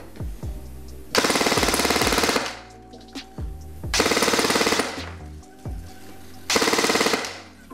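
A Modify XTC airsoft rifle firing on full auto at about 18 rounds per second, three loud, fast-buzzing bursts of roughly a second each, with quiet gaps and mechanical clicks between them.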